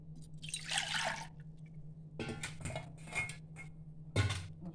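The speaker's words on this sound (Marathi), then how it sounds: "आता हे आपण गाळून घेऊया. सगळा ह्याचा पल्प काढू." Strained tamarind pulp dripping and trickling into a pot in several short wet bursts separated by pauses, close and fairly quiet over a low steady hum.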